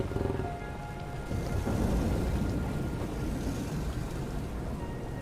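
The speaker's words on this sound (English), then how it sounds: "Is it storming? There's a meteor storm." A meteor storm in ARK: Survival Ascended rumbles as a continuous loud roar, like heavy rain and distant thunder, swelling slightly midway and holding steady throughout with no talk.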